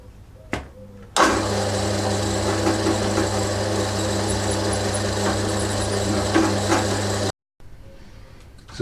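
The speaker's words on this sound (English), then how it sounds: "And this time I'm drilling all the way through, so I've taken the parallel out." A drill bit bores all the way through a workpiece clamped in a tightened vise with the parallel removed, running as a loud, steady motor drone with a constant hum for about six seconds before cutting off abruptly.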